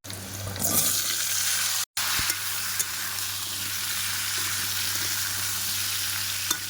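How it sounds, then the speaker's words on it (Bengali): Onion, five-spice seeds and bay leaf fry in hot oil in a wok, a loud steady sizzle with a sharp burst near the start and a brief cut midway. "কড়াইতে তেল দিয়েছি, 5 ফোড়ন আর তেজপাতা আর পেঁয়াজ।"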